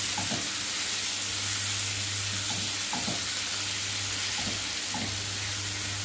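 Diced tomatoes and other ingredients for an Egyptian breakfast frying in a pan, a steady hissing sizzle under a low hum, with several soft stirring scrapes spaced through it and no voices.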